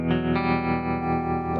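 Electric guitar played through a multi-effects unit with tremolo, echo and flange sections, heard as a sustained distorted chord that pulses in volume, with picked accents at the start and a quieter final strum.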